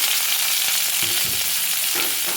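Chopped onion drops into hot oil already holding green chillies and black cumin, giving a loud, steady sizzle with a few low thumps and scrapes as it is stirred for a dried-fish vegetable dish.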